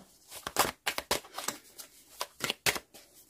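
Tarot deck shuffled by hand for a card draw, close, crisp bursts of riffling cards in an irregular rhythm, heard alone without talking.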